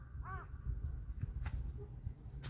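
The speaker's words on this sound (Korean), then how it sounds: "저봐 까마귀 까마귀" A crow caws once in the distance, a short faint call over steady outdoor background noise.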